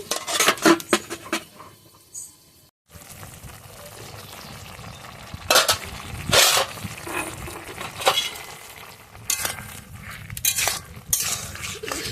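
Metal clatter of a lid set onto a cooking pot of simmering kochu loti, with several sharp clanks and scraping against a low bubbling background.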